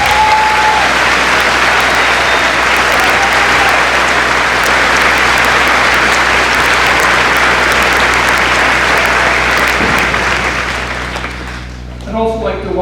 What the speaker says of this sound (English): Let's give him a round of applause